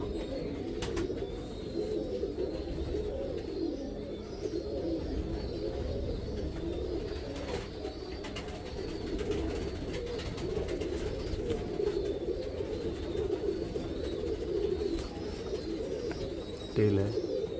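Teddy pigeons coo in soft, low, continuous murmuring close by, with faint background noise and a few light clicks.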